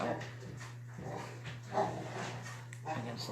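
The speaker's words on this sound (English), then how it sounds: "Can you guys hear my dogs playing? That's the St. Bernards playing." St. Bernard dogs at play close by, giving short whimpers, pants and playful yelps while a person talks over them.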